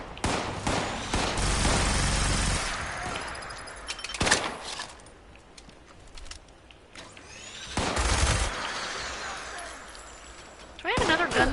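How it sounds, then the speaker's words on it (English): Gunfire in Fallout 76, with bursts of shots and sharp cracks coming in waves between quieter stretches, while a player talks over the game sounds. "Someone's shooting at me"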